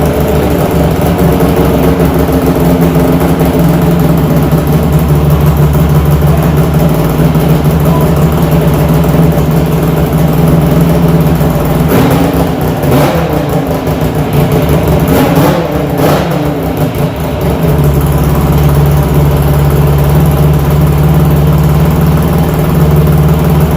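Yamaha Venture motorcycle engine with an exhaust leak, cranked on full choke, runs loud and close with a steady low drone throughout and a rougher, uneven stretch of revving partway through.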